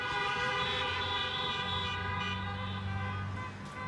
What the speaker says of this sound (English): how about everybody honk their horn for Candy?